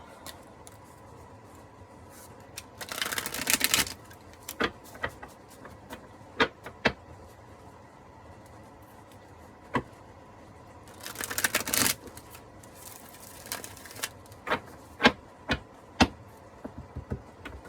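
Playing cards shuffled twice in quick riffling bursts, with scattered light taps and clicks of cards being handled in between.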